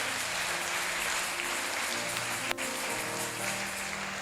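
A church congregation claps and applauds together, a steady dense wash of clapping filling the room at a constant level throughout, with one sharp louder clap standing out midway.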